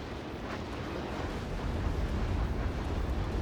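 Missiles fired by units in the real-time strategy game Act of Aggression make a dense, continuous rumble of low blasts that swells slightly past the midpoint and stays loud throughout.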